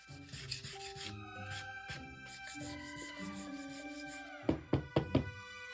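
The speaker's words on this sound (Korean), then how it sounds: "단단하게 굳었다면 드디어 사포질 차례예요" Paper sandpaper rubs against a hardened, filled pencil holder in short strokes, ending with a few quick knocks.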